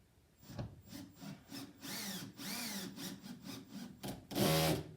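A power drill driving a screw into a drywall anchor, several rising-and-falling whirring bursts in a rhythmic run, ending with a louder, harsher grinding burst.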